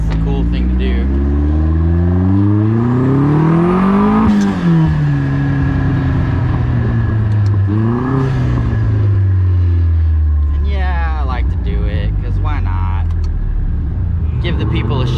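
Several cars rev and accelerate hard away from a roadside cars and coffee meet, engine pitch climbing and dropping through repeated gear changes, loud and close, with people talking throughout.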